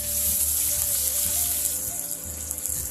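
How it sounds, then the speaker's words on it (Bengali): Onion fries in hot oil while being stirred, giving a continuous close bright sizzle with a faint steady hum beneath it and no voices. "পেঁয়াজটাকে দেখো ভালো করে তেলে ভেজে নিচ্ছে, তেলে ভালো করে নেড়ে ভাজছে"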